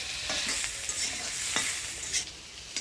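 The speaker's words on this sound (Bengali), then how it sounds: "বেগুনগুলো আমি হালকা আছে ভাজিয়ে নিলাম। এবার তুলে নেব।" Eggplant pieces shallow-frying in oil in a home kitchen pan, giving a steady, close, bright sizzle with occasional scraping clicks from stirring, with no talking.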